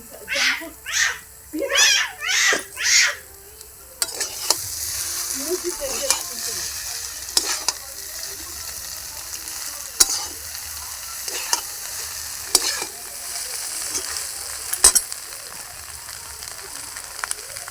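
Egg potato chow mein is stir-fried with fried eggs, bringing a steady background sizzle and sharp scraping clicks of a spatula against the pan, following a few loud harsh bursts at the start.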